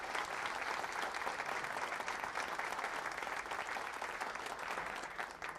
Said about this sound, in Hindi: ताली बजाइए जोर से आप लोग